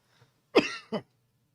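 A single harsh cough, a brief burst followed by a shorter second hack, close by against a quiet room.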